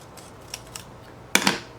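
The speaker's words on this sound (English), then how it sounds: "I think I'm gonna take this one, cut it in half" Scissors cutting a decorative sticker in half, with two faint snips followed by a louder, crisp double snip close by, no talking.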